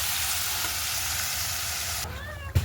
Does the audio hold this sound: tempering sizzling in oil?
yes